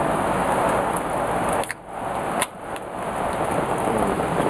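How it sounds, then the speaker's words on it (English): Steady rain pours down in a dense, loud hiss close by and continues throughout, broken only by a couple of brief knocks. "Yeah, just decided to start raining."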